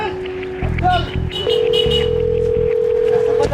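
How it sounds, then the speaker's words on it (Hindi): A telephone being dialed: a steady dial tone, then a short run of pulsing keypad tones and another long held tone, loud and close, with a voice briefly over it. "तभी सीधे फ़ोन घुमाए मैनेजर साहब को"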